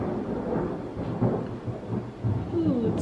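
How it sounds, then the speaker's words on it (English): Thunder rumbles low and rolling during a thunderstorm, with faint rain in the background and no talking. "ooh, it's thundering."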